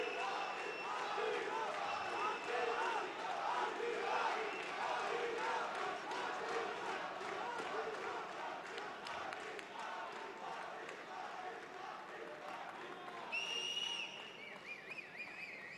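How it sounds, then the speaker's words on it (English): A biased crowd at a fight night in Fulda, Germany, applauds and cheers a fighter in a sustained roar of claps and shouts, loud and steady, with an announcer's voice over it and whistles near the end. "getting a riveting round of applause here from this very biased crowd in Fulda, Germany."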